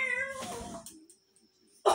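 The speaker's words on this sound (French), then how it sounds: "Oh, mon chat est là." A cat gives a drawn-out meow up close at the start, then a brief quiet stretch, and a second short meow breaks in loudly at the end.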